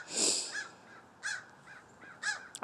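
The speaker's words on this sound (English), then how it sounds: "crows fly over me" Crows flying overhead give several harsh caws spaced over a few seconds, with a louder first call and fainter repeated ones against outdoor background hiss.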